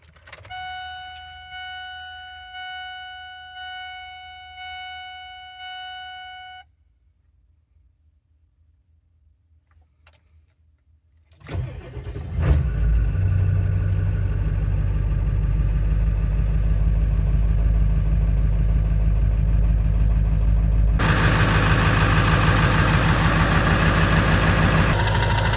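Cold start of a 7.3 truck engine fitted with an upgraded Riff Raff cam position sensor: a run of regular warning chimes and quiet, then a sharp crank and catch into a loud, steady diesel idle that grows louder and brighter near the end.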